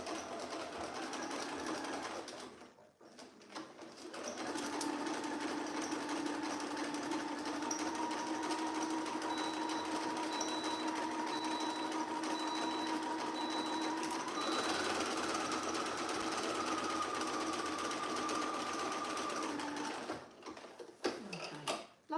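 A sewing machine runs steadily for about fifteen seconds, stitching one long continuous seam of a Molly dress, close and loud, with a brief start and stop at each end and no talking.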